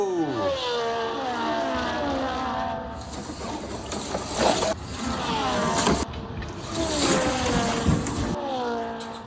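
An AFX 1968 Corvette 427 slot car races around a track, its tiny motor whining in rising and falling sweeps as it speeds down straights and through corners, loud and close with no voices.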